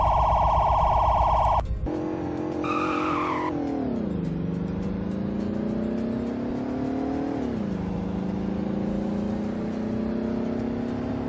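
A Roblox video game police car sounds a siren, a loud steady tone that cuts out abruptly, followed by a brief high burst and then a long wavering wail that dips and rises over engine noise.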